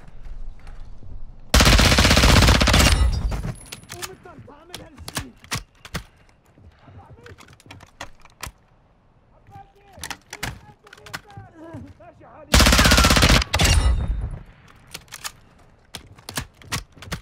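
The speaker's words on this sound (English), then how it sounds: "Hear gunshots over there to my west." Bursts of rapid machine gun fire in a video game, two long loud volleys a few seconds each, separated by scattered single shots and softer impacts, with a voice speaking in between.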